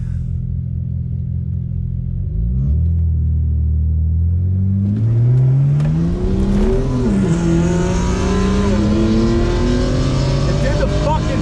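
A turbocharged car pulls hard under load, its engine note climbing steadily before a transmission shift briefly drops and restarts the pitch, loud and close inside the cabin.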